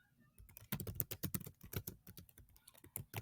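Computer keys clatter in quick, uneven bursts of crisp clicks, close and moderately loud, starting after a brief quiet moment and running to the end.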